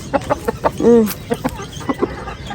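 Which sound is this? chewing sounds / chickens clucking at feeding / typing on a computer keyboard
chickens clucking at feeding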